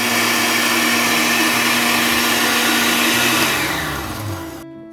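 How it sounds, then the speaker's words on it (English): An electric blender whirs loudly and steadily while blending Cameroonian achu yellow soup, then its motor winds down and cuts off near the end. The sound is close and unbroken, with no talk. "you use a blender like so"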